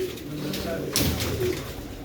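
Pure old-breed Sialkoti pigeons coo softly in a loft, the low murmuring calls faint beneath someone talking nearby.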